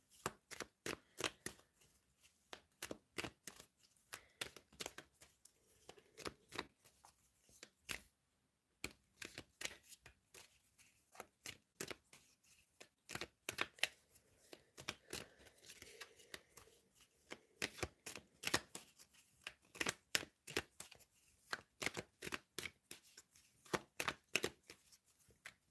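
A tarot deck is shuffled over and over in crisp, rhythmic bursts of sharp card snaps. The riffles repeat close-up for about half a minute, with brief pauses between runs.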